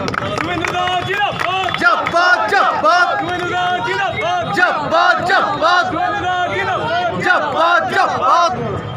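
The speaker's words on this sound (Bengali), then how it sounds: "বা জোরে করতালি হোক" A large, loud crowd at a Shyama Puja inauguration in Bankura makes a dense, continuous roar of voices, cheers and clapping that holds steady for the whole stretch.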